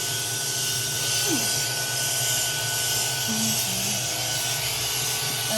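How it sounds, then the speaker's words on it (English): A vacuum cleaner runs with a steady, close, loud whooshing roar while a dog is being clipped and stripped, the airflow drone unbroken throughout. "The sound of the vacuum cleaner, so that adds another element of difficulty."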